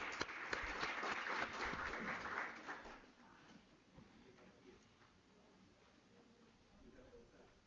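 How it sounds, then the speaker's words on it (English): A seminar audience claps for a presenter, a senior lecturer from the University of Pretoria, at a research seminar. Dense clapping is loud for about three seconds, then thins and fades into quieter room noise. "Let's put a round of applause for her."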